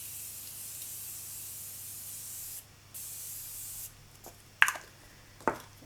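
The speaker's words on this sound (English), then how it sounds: "So let me spray that" Makeup setting spray misted over a face made up with powder foundation: a steady close hiss for about four seconds with a brief gap, then two short sharp spritzes.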